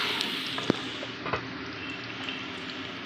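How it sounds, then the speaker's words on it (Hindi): Bitter gourd (karela) slices frying in a pan, a low steady sizzle throughout with a couple of brief clinks of a spatula, close and fairly quiet, no talking. "बस 4-5 मिनट लगाकर इनको फ्राई कर लें।"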